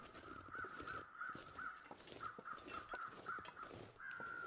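Crows caw repeatedly in the Interloper survival game, a steady run of harsh calls about every half second over a constant windy background, no voices.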